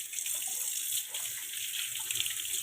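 Tap water runs steadily into a kitchen sink while eggs are washed before boiling, a close continuous splashing hiss with no speech.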